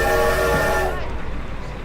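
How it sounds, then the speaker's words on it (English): Brightly colored historic trains stand at Promontory Summit, Utah, during a 150th anniversary celebration of the Transcontinental Railroad, giving a loud, sustained whistle with steady tones that cuts off about halfway, leaving a low rumble and crowd murmur. "right behind them sits some very brightly colored trains"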